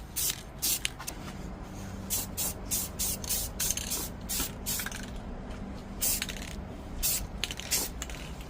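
Rustoleum 2X satin spray paint applied in short, repeated hissing bursts to a Schwinn bicycle seat pan, close and fairly loud, with brief pauses between passes.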